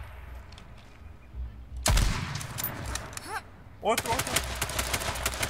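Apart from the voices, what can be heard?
gunfire in the video game H1Z1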